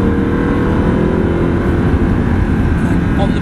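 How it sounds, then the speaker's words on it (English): An Audi R8 sports car accelerating in fourth gear, its engine a loud, steady low drone that stays close and constant throughout. "accelerate out, up the gear, just leave it in fourth gear all the way up"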